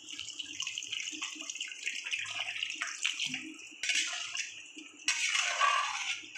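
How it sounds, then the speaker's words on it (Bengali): Water is poured from a vessel into a pan of simmering egg curry, a steady close splashing and gurgling stream that grows stronger toward the end. "এবার আমি জল দিয়ে দিলাম।"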